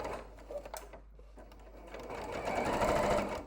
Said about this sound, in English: I'm just going to go along the edge of the picture in a straight stitch all the way around